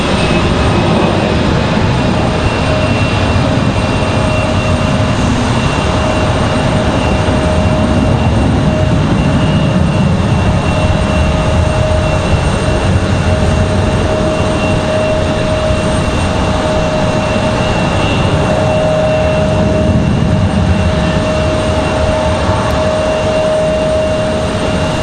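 A Delta Airbus A319 airliner departing Raleigh-Durham International Airport, a loud steady jet engine roar sustained over the whole stretch with a faint tonal whine, heard from a distance with no talking.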